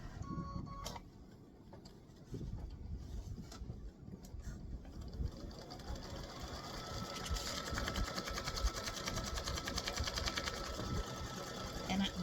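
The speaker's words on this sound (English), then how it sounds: "I'm going to stitch that tack down with the green" An embroidery machine stitches a bright green tack-down on a 4x4 hoop design, a fast, steady mechanical whirr that builds and holds in the second half, with faint room noise beneath.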